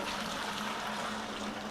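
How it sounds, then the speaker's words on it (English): Water pouring steadily into a bucket to mix tile thinset, a continuous broadband splashing rush with a low steady hum beneath, fairly quiet and unbroken, no voices. "So I'm just gonna put 3 quarts of water in"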